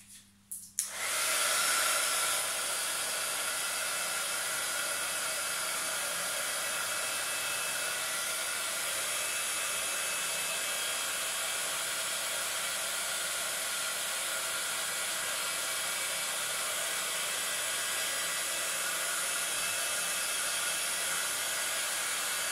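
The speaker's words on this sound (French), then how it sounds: "soit vous utilisez votre heat gun" A heat gun drying a handmade bookmark switches on with a click and then blows as a steady, even hiss and whir that runs unbroken for about twenty seconds, fairly quiet and alone.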